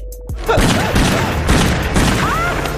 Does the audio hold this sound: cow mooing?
no